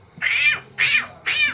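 A voice imitates a cat, giving three evenly spaced, close, high meows, each about half a second long.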